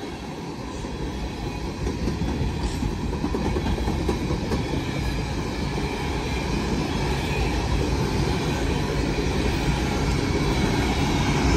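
BNSF freight train, led by unit 8476 with two distributed power units, passing northbound in a continuous loud rumble and rolling rail noise that holds steady throughout, close by and alone.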